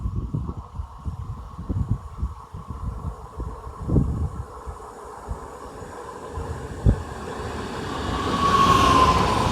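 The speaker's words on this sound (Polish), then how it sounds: "Wjeżdża pociąg Regio relacji Świnoujście Port Poznań Główny." A Regio regional passenger train rumbles into Białuń station in Poland, low rolling clatter of wheels with a couple of sharp knocks, then a rising hiss and squeal of brakes.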